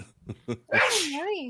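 A person lets out one loud, close sneeze with a wavering voiced tail, right after someone says a few words.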